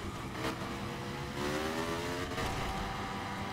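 A 200HP dirt bike in a racing game, its engine droning and revving continuously at steady volume as it speeds around a track, with no talking.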